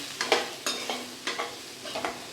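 Pumpkin sautéing in a pan with turmeric and chili powder, a spatula stirring and scraping in about four quick strokes over a steady low sizzle, close and alone.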